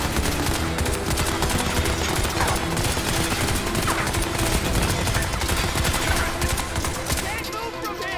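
Continuous rapid gunfire from an anti-turret weapon aimed at a turret in a video game, dense and steady throughout with constant clatter and no pauses.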